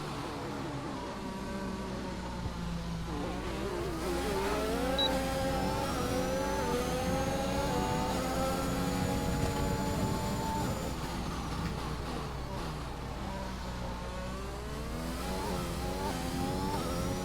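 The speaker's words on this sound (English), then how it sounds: "See what they can do in their Williams and McLarens, both Mercedes-powered cars here, for a flying lap around Spa-Francorchamps." Mercedes-powered Williams and McLaren racing cars lap Spa-Francorchamps in a racing video game, their engines whining steadily through long rising and falling gear sweeps, sustained and fairly loud with no talk over them.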